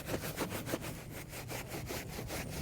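A leather cleaning brush scrubs a Dainese leather motorcycle race suit, with rapid back-and-forth rasping strokes in a steady rhythm, close and moderately loud, with no talking.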